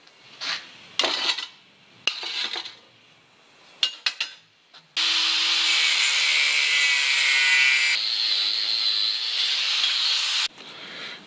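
A saw cuts into a welded steel axe head: short scraping strokes and clanks at first, then a long continuous loud hiss of cutting before it stops.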